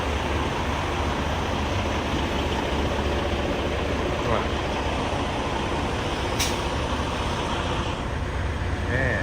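Large trucks idle and rumble at a truck-only fuel station, a dense continuous engine drone with a brief hiss of air brakes partway through, close and steady throughout.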